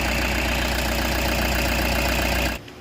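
A 2013 Toyota Hiace Commuter van engine idles steadily and close, a continuous low rumble with no talk, cutting off abruptly near the end.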